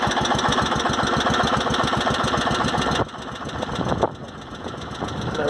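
A Wheel Horse garden tractor engine idles steadily with a rapid, even pulsing; partway through, the tone drops and roughens slightly as the choke is pulled back, then settles into a lower idle.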